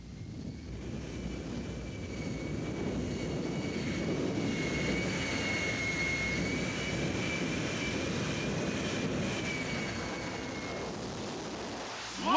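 A jet-powered Kenworth drag truck with a J79 jet engine thunders through a drag-racing run, a sustained loud roar with a steady whine that swells and then eases off.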